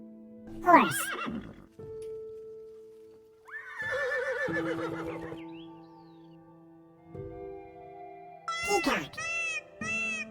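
A horse neighs in a loud, shrill whinny near the start, followed by other short animal calls and a second whinny toward the end, heard alone without talk.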